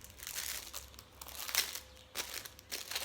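A package being opened for an unboxing, with crinkling and crumpling of wrapping in several close, bursty rustles, no talk.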